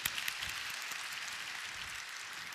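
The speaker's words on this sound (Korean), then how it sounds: "우리 힘내라고 한번 박수 한번 쳐줄까요?" A church youth congregation at Onnuri Church applauds during a worship service, a soft, continuous wash of many hands clapping together at a distance.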